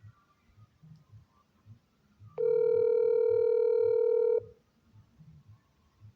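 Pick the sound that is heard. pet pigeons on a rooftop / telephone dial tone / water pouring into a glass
telephone dial tone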